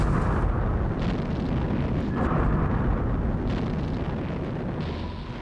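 Deep, continuous rumbling roar of underwater depth charge explosions heard from aboard a boat, with a few muffled thuds rising out of it, heavy and sustained.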